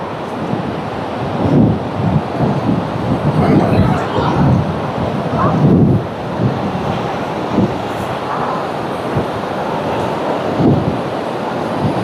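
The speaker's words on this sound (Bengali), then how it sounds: "চলে এলাম কিন্তু আমরা সমুদ্র সৈকতে একদম সামনে" Waves and wind on the white-sand sea beach at Bakkhali form a loud, continuous rushing roar with periodic swells of surf and gusty buffeting against the microphone.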